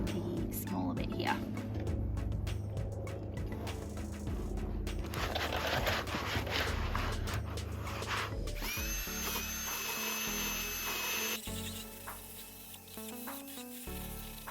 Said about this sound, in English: I'm going to use the big attachment for my drill